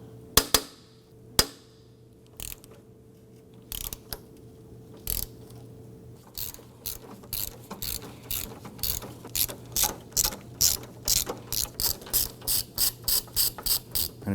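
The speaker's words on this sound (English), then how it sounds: "I want to go ahead and loosen and remove this 10mm bolt right here." Ratchet with a 10mm socket loosening a bolt while replacing the AC condenser on a 2003-2014 Volvo XC90 3.2L, giving a few sharp clicks and then a steady, quickening series of close ratcheting clicks with no talking.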